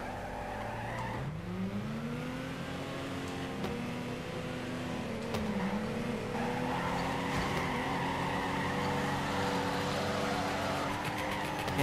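A drifting car in the Torque Drift game howls through shifting revs while tires squeal and skid continuously, engine pitch swooping up and down as the slide is held.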